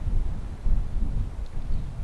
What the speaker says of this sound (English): there's really big gusts of wind happening right now. One's coming right now.